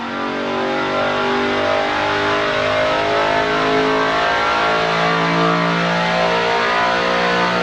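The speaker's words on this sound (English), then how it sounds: "the car is on the dyno and as you can hear, it is bloody loud" A 12-year-old BMW M3 strapped to a dyno, its engine held at a loud, sustained high rev with a harsh, steady roar that barely changes throughout, close up and with no talking.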